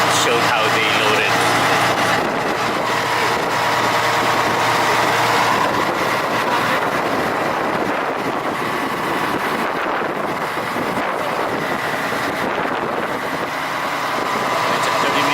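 A passenger ferry's engine drones steadily along with wind across the deck on a crowded boat crossing between islands, a continuous rumble with wind buffeting the microphone throughout.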